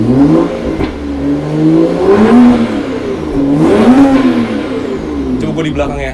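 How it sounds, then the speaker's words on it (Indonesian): A car engine in a workshop revs up twice to its 4000 RPM limiter, each rise climbing to a loud, close, buzzing peak before dropping back. Voices talk under the engine. "Rev engine, modenya rev engine. Di RPM 4000 baru ini."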